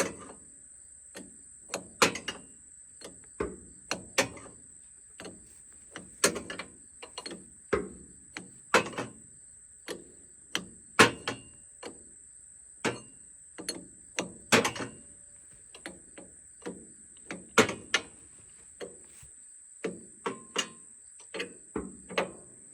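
A ratchet tightens a part on a John Deere 450M, giving irregular bursts of sharp clicking close by, with brief pauses between strokes and a steady high whine underneath.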